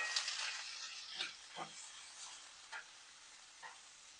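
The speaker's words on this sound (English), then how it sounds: "stir that around a little bit" A pan of chicken quesadilla filling is stirred in a few quiet scraping strokes over a faint sizzle, sounding soft and fairly close.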